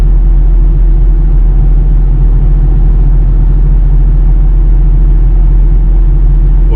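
A Pontiac G8 GT with its old exhaust setup cruises at 60 in normal mode, giving a loud, constant low exhaust drone and road rumble inside the cabin, steady and unbroken with no voices.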